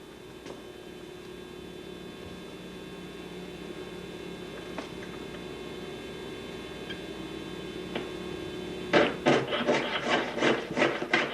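A jeweler's saw cuts through a ring, faint and close, with soft rasping strokes over a steady hum that swell into a few louder, rhythmic scraping passes at the end.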